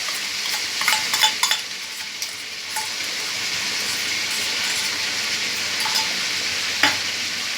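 Spice masala with a pinch of sugar frying in a pan, a steady close sizzle with clustered spatula scrapes and knocks early on, then quieter stirring over continuous hiss.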